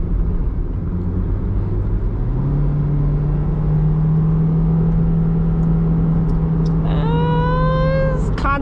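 A 2011 Honda CR-Z accelerates from inside the cabin, its engine drone rising and then holding a steady hum, with a short climbing whine near the end, loud and continuous.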